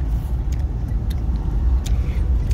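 Steady low road rumble inside a moving car with Dad at the wheel, a continuous close engine and tyre drone with faint jingling on top and no talk.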